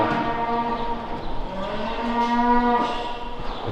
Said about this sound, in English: that's why you're hearing all the bellowing over there